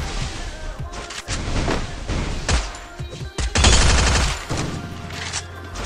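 Rapid video game gunfire in a battle royale match, dense bursts of shots and booms stacked close together, loud and near, with heavy clusters of shots throughout.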